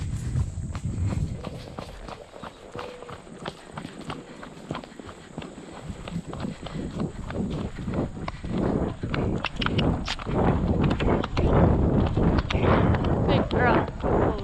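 A horse trots over grid poles during a riding session, its hooves clip-clopping in a steady rhythm close to the rider, with breathing and tack noise mixed in and the beat growing louder toward the end.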